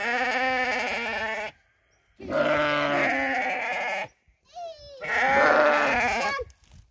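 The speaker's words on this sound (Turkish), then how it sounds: "Koyunlar burada." Sheep on a village farm bleat loudly and close by, several long wavering calls coming in bursts separated by brief silences.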